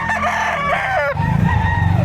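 A rooster crows loudly and close at a livestock auction market in Padre Garcia, Batangas, with a long drawn-out call and a few clucks after it, and no talk over the sound.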